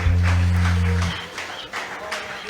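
Church congregation applauding during a Thursday worship service, a burst of scattered hand claps that starts under a low sustained tone and carries on alone, close and moderately loud.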